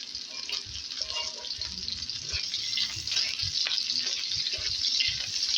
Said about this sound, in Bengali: তারপরে আমি পেঁয়াজগুলো দিয়ে দিলাম তেলে।